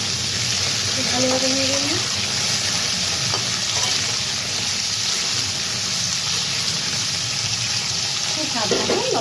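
Potato and papaya hit hot oil with spice tempering for aloo pepe dalna, giving a loud, steady sizzle and crackle throughout, with a voice speaking briefly over the frying.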